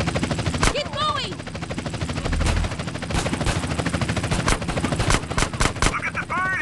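Gunfire during the small town bank mission in the video game GTA San Andreas, bursts of loud shots and rattling automatic fire over a helicopter's drone, with voices shouting between volleys.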